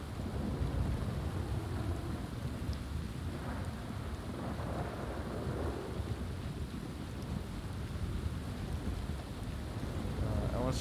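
A video game thunderstorm on open plains: steady hissing rain and wind with low rumbling thunder rolling underneath, continuous and fairly faint, with occasional soft voices in the background.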